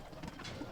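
Punjabi pigeons coo in a short, low, murmuring burst close by, with no voices.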